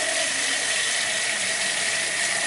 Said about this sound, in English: I'm gonna take my bowl and we're gonna fill it up.